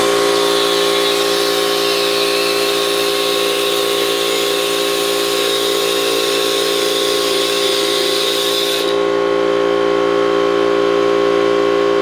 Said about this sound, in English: we're just going to cut this hose as close to the nut as we can